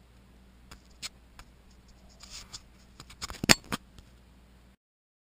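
Scissors snip through spinnaker sail fabric as a gore is cut, a sparse series of close, crisp cuts and rustles in a quiet room, building to a cluster of sharper snips before falling silent.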